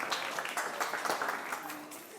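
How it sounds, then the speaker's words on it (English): Audience clapping for a volunteer at an aquascaping workshop in a shop, a moderate, steady patter of hands from a small indoor group lasting a couple of seconds. "Round of applause for Dan"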